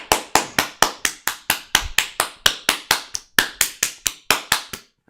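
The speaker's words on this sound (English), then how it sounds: "Clap your hands for a moment." Sharp hand claps ring out one at a time in a steady, fairly even rhythm, each loud and close with a quick decay, about four per second, alone with no talk.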